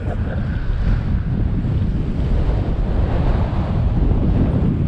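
Strong wind roars steadily across the microphone on a steep hillside trail during an e-bike ride, a constant loud low rumble and buffeting with no pauses and no voices.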